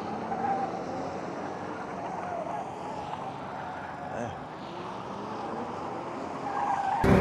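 A BMW M850i is driven hard on an autocross course, its engine roar and tire scrub forming a steady rushing noise throughout, with a voice talking over it and a surge near the end.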